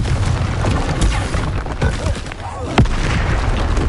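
Spell blasts from Bombarda and Confringo in Hogwarts Legacy, heard as a few dull booms and cracks, one sharp hit near the end, over a dense rumbling game mix.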